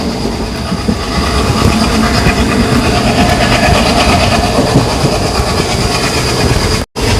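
A sleeper train hauled by an ALCO diesel locomotive between Velankanni and Ernakulam rumbles loudly and continuously from inside the carriage, with dense wheel clatter and roar and a brief cutout near the end.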